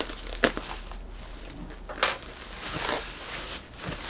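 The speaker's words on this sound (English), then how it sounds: "So right now it's like all bubble wrapped. I'm gonna try and go ahead and cut this real quick." Bubble wrap packaging around a Corvette race car part is crinkled, rustled and cut, giving close crackling with a couple of sharp snaps.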